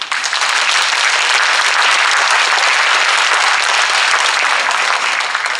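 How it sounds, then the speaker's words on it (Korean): Loud, dense applause from a large audience greeting the tenor chairman of a vocal music society, a steady wash of many hands clapping continuously and evenly, close and full. "양동진 회장님께 힘찬 박수 부탁드립니다"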